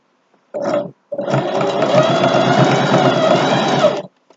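A sewing machine runs a triple stitch on a jockstrap, a short burst, a brief pause, then a long steady whirring run that stops abruptly, close and loud.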